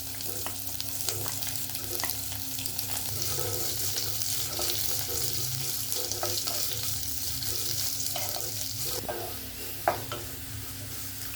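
Chopped onions sauté in a pan with curry leaves, ginger and green chilli for potato masala, a steady sizzle under repeated stirring scrapes, with a low hum throughout and no talk.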